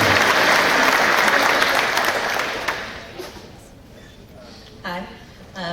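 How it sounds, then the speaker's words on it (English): Audience applause at a Dollhouse fan event fills the first few seconds with steady, dense clapping, then thins and fades out while voices talk over the quieter tail. "Golf clap, thank you."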